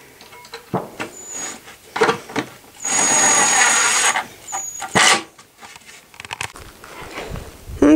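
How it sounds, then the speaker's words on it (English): A power drill pre-drills holes in wood, with short whining bursts and one longer sustained drilling run in the middle, close by, amid knocks and handling noises. "He's pre-drilling the holes so that the wood doesn't crack"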